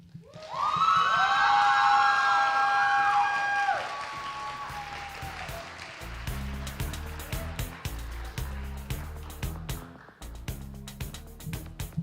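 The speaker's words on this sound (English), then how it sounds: "Give one more round of applause for Faith." Audience applause and cheering for a poet at a poetry slam, loud at first, then a clapping crowd under a steady beat of music and rhythmic thumps.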